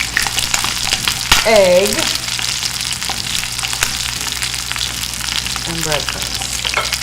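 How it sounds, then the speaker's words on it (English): Chicken skin fries in hot oil for chicken cordon bleu, a steady close crackling sizzle that runs throughout beneath someone talking. "we're gonna go ahead and just start crisping up the skin"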